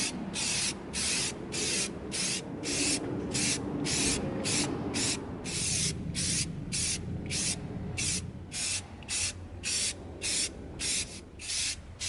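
Flat black spray paint hissed in rapid, regular short bursts onto an EVA foam prop at a spray stand, a close, steady pulsing spray with no voices.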